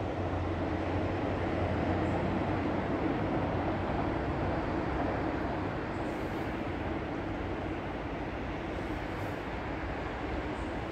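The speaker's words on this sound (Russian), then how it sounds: "О, поезд, видите, поезд пришел." A train pulls in, giving a steady, broad rumble and rushing noise for several seconds, with no voices over it.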